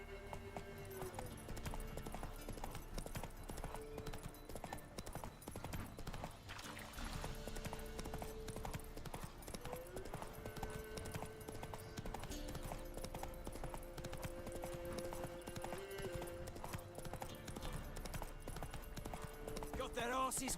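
Clip-clop of the horse Roach's hooves galloping in The Witcher 3 video game, a steady rhythmic beat running throughout beneath game music and character voices.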